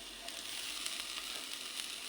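Garlic, onion and ginger sauté in a little oil for chicken tinola, a steady close sizzle with faint stirring scrapes throughout.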